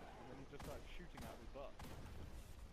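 Gunfire in a medieval knight combat video game, a few sharp bursts spaced across about three seconds, mid-distance and moderately loud against a steady background bed, with no voices over it.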